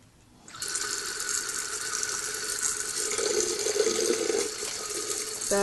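Tap water gushing straight down into a lab sink to drive suction for a Buchner filter, starting abruptly and then running as a steady, loud, hissing splash with a faint rattling mechanical undertone.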